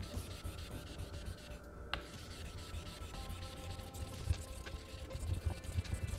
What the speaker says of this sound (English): So here we're gonna raise the slurry